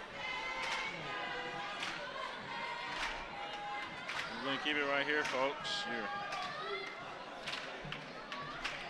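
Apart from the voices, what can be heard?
basketball crowd cheering, stomping feet and clapping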